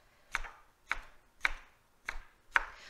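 A cored green bell pepper is finely chopped with a knife on a cutting board as a topping for steamed kabocha squash: five crisp, evenly spaced chops, close and distinct, with no talking.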